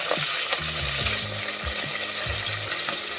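Chicken biryani ingredients sizzle and fry in a pan, a steady crackle with repeated stirring scrapes at an irregular rhythm, close and fairly loud throughout.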